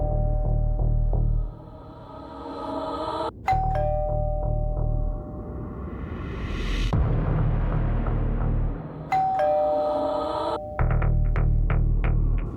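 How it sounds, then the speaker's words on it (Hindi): A household doorbell rings repeatedly, its loud electronic ding-dong chimes sounding in bursts over a low, droning dramatic music bed, with no voices. "बस डोरबेल बजी।"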